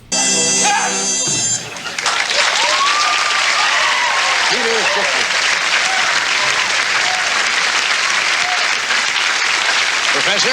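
Audience applause on a live comedy album recording, a sustained dense wash of clapping filling the room after a short musical tone at the start; some faint voices mingle underneath.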